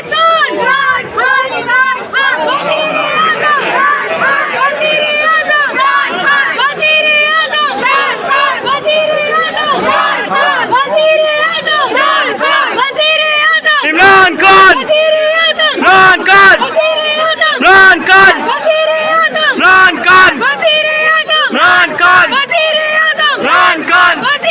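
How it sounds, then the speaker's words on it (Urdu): Women outside Lahore High Court chant slogans for Imran Khan in loud, rhythmic, repeated group calls that carry on steadily throughout, with several sharp bursts midway. "لاہور ہائی کورٹ کے باہر عمران خان کے حق میں خواتین نے نعرے بازی کی"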